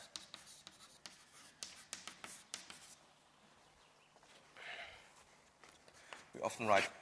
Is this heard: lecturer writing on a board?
yes